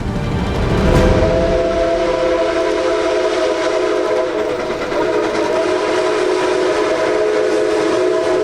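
Canadian Pacific 2816 steam locomotive passes on the Final Spike Steam Tour, sounding a loud, sustained chime whistle over a continuous rumble of the train rolling by.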